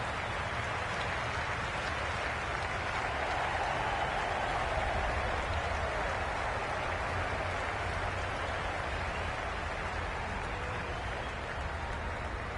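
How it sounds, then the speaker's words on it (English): A large cricket crowd in the video game Cricket 22 roars steadily, a dense wash of cheering and applause that holds without a break. "Will you listen to the crowd? They are loving it."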